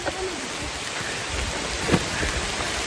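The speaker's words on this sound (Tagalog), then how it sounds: "Ang lakas naman ng ulan na to." Heavy rain falls steadily during a hike, a dense broadband wash of drops on surfaces with a brief louder patch near two seconds; no talking is heard.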